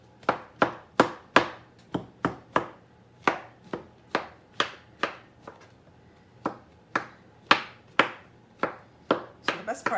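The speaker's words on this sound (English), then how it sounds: "just gonna chop them up" Bell peppers being chopped on a cutting board for stuffed peppers: a steady run of about twenty crisp, close knife strikes, evenly paced with a few brief pauses, and no talking.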